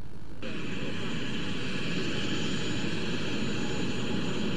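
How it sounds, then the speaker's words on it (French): A plane carrying the presidents of Mali and France landing on the tarmac, a steady, loud, broad jet-engine roar that holds throughout with no pause. "l'avion qui porte les deux présidents maliens et français atterrit sur le tarmac"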